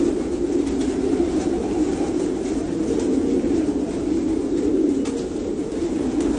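French meat pigeons at a pigeon farm cooing in a steady low throaty murmur, many birds overlapping continuously and close, with no talk.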